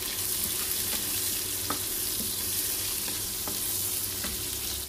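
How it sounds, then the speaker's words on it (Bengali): Soybeans frying in hot mustard oil give a loud, close, unbroken sizzle with scattered crackles and a few stirring scrapes, cutting off abruptly at the end; no one speaks. "এরকম করে একটু ভেজে নিব।"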